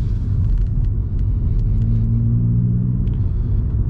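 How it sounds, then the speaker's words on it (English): A car pulls out of a side road in a residential street while another vehicle's engine rumbles low and steady nearby, with a passing vehicle faintly audible over the rumble. "Oh, see, there we go, we've got an emerging car"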